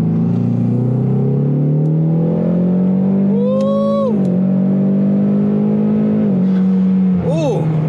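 A Ford Mustang EcoBoost on a 93-octane tune pulls hard from 3000 RPM at 30 mph, its engine note rising steadily and loudly with a brief dip at a gear change, heard from inside the car.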